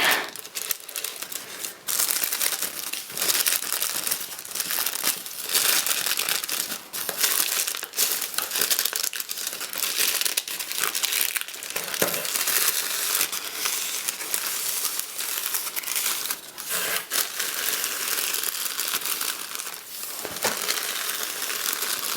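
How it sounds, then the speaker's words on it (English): Crinkly packaging paper rustled and crumpled during a Geek Fuel subscription box unboxing, a steady close crackling texture with brief sharper crinkles, fairly soft and with no talking. "This makes some real crinkly sounds."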